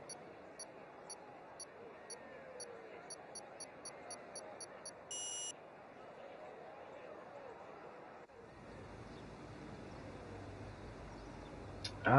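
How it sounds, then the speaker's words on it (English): Race start timer in a racing video game set at COTA: a row of short, faint electronic beeps at an even pace, then one longer tone, over a soft murmur of game ambience with a voice talking. "I can hear the timer."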